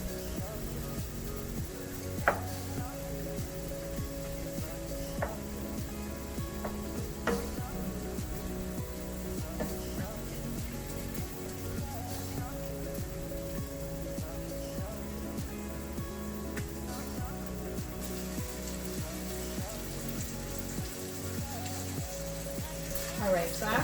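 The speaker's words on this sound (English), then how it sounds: "Want to fry that up so you get a nice little sear on both sides of the sausage." Polish sausage fries in a pan, a soft, steady sizzle with scattered pops and crackles running throughout, faint and close, with no talking.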